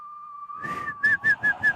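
After a sustained steady tone, a person whistles a few short, clear repeated notes in an even rhythm, close and fairly loud.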